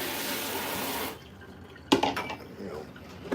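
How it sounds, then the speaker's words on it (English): Tap water gushes hard from a kitchen faucet into a sink, loud and steady for about a second, then cuts to a quieter room with a few clinks and splashes of dishes. "That's some water pressure for you right there."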